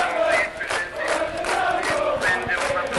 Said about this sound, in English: As the crowd come back to life